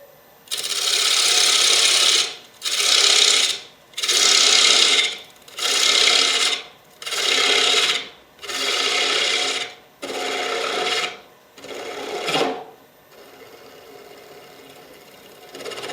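A carbide woodturning tool scrapes the bottom of a spinning wooden bowl on a lathe in eight hissing, raspy passes of about a second each, separated by short gaps, then the motor hums quietly on its own.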